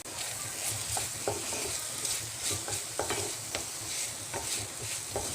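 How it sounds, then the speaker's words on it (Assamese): French bean curry with red chili sauce being stirred in a pan, with repeated scraping and clinking of a spoon against the metal over a steady low sizzle, close and moderately loud, with no talking. "আৰু এতিয়া মই এইখিনি গোটেইখিনি মিক্স কৰি দিম।"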